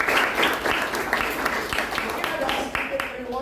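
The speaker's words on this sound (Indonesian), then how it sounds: "Beri tepuk tangan dulu buat kelompok yang sudah maju tadi." A class applauds a student group that has just presented. Dense, fairly loud clapping with distinct individual hand claps carries on throughout, and voices murmur underneath.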